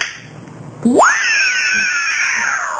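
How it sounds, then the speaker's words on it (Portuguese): A sudden loud shrill scream rises sharply out of a quiet background, then holds as a long, piercing wail that slowly fades, heard close with no talk over it. "É o grito da Pink, da Pantera."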